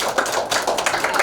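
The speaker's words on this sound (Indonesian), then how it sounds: "Oke, tepuk tangan." Group clapping in a classroom during a teaching-practice lesson: a short burst of dense, sharp hand claps at close range, with no talking.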